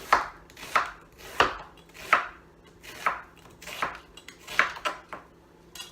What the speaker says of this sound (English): just nice even slices of onions